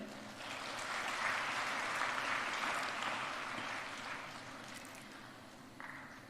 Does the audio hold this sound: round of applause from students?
yes